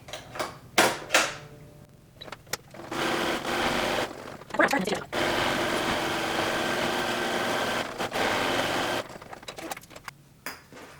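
A home sewing machine stitches the pocket edge of a pair of sweatpants. Several whirring runs come in bursts of a few seconds each, broken by pauses and small handling clatter.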